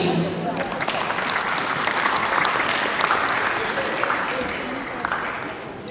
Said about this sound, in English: A big round of applause for Dinesh ji.